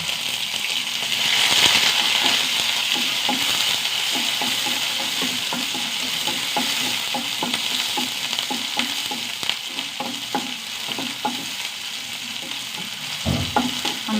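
Curry leaves, garlic, shallots and green chillies fry in hot oil in a pan, giving a steady close sizzle broken by frequent scrapes and clinks of a spoon stirring, with no talking.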